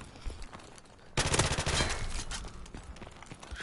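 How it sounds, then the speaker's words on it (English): Shotgun and other gunfire in Call of Duty Modern Warfare Remastered multiplayer erupt in a loud burst after a quieter opening, followed by scattered sharp shots and clatter. "Shotgun."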